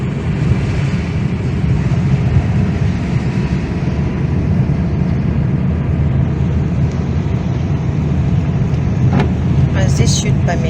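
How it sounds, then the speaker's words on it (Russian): Busy city street traffic on Elevatornaya Street, with many cars driving past in a continuous loud rumbling wash of engines and tyres, a few sharper high sounds near the end. "Вон сколько машин."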